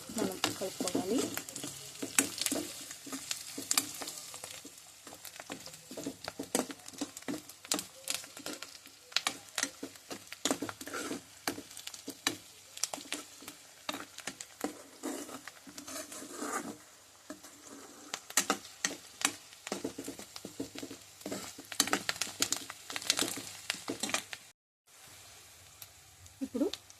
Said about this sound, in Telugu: ఇప్పుడు కొంచెం కరివేపాకు కూడా ఇందులో వేసుకొని మనం కలుపుకోవాలి.